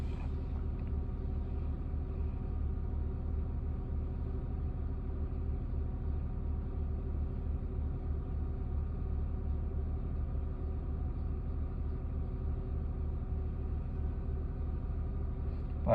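A car engine idles at high RPM right after starting, giving a steady, even mid-pitched rumble that holds constant for the whole stretch with no other sounds.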